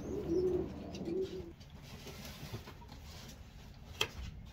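A newly arrived pet bird shipped from Louisiana Perch gives a few soft, low dove-like coos up close, followed by quieter rustling and a single sharp tap in a calm indoor space.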